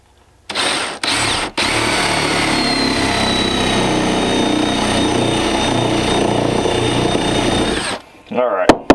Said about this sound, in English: Just going to drill in.